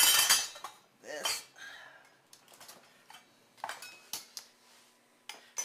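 A pot of boiling water for soft pretzels is shifted across a stovetop, giving a series of sharp metallic clanks and clinks spaced irregularly, close and fairly quiet, without talk.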